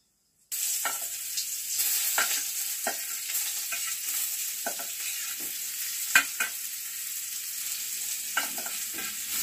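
Papads frying in hot oil in a home kitchen, a steady broadband sizzle with repeated short crackling bursts as pieces are turned and stirred, close and continuous with no talking.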